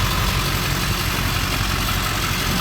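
A tuned Ford F-350 diesel truck idles close by, a dense, steady rumble with constant low clatter and no breaks or voices throughout.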